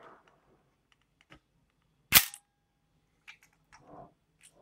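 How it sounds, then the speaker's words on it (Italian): A Yashica FX3 film camera shutter fires once, a single sharp close click in an otherwise quiet room, followed by faint small handling sounds. "ecco qua che cosa fa l'otturatore"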